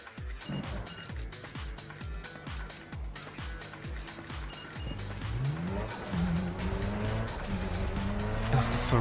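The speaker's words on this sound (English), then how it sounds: "Ferrari 360 sounds" A Ferrari 360 in Need for Speed: Underground 2 revving hard through repeated short bursts, then a rising engine whine with tyre squeal, loud and close throughout.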